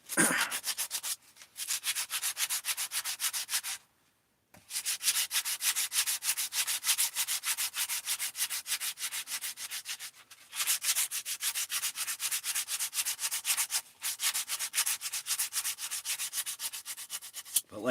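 Rapid, rhythmic rubbing of sandpaper on a wooden spear haft, close and steady, broken by a few brief pauses including one clear stop of about half a second.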